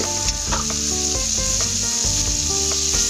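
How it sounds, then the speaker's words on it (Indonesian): Garlic, chili and scallions sizzling in melted butter in a pan for salt-and-pepper fried shrimp, a loud continuous hiss and crackle with stirring clinks throughout. "Kita masukkan si bawang, cabai, dan juga daun bawangnya,"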